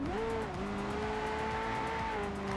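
A car engine drones steadily in Forza Horizon 2 gameplay, its pitch shifting through gear changes as the engine revs and holds, loud and continuous with no talk over it.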